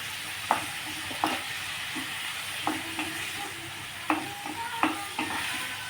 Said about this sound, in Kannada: ಸ್ವಲ್ಪ ಸ್ಮ್ಯಾಶ್ ಮಾಡೋದ್ರಿಂದ ಟೊಮೆಟೊ ಬೇಗ ಬೇಯುತ್ತೆ. ಈ ಥರ ಬೇಯಿಸ್ಕೊಳ್ಳೋಣ.